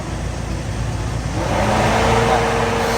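An extra AC fan on an Isuzu Elf Giga truck runs at high speed, a steady close-up whir and drone that grows louder and fuller partway through and holds there.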